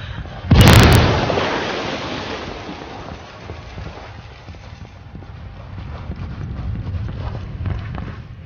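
A frag grenade explodes in the shooter game Ghost Recon Wildlands: one loud, close, sudden blast whose rumbling tail slowly fades, followed by softer, rough background noise.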